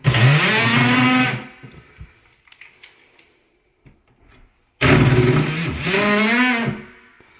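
A power saw cuts plywood sheeting in two loud, close bursts, its whining motor pitch sagging under load and then recovering, with quiet scrapes and knocks in the gap between.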